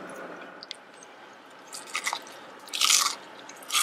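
Several crisp crunching bites of fried chicken, with short crackly bursts growing louder toward the end over a quiet background hiss.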